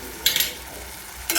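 A curd mixture being stirred into fried onions in a hot pan for dahi bhindi, with two bursts of spoon scraping and a soft sizzle beneath, close and without talk.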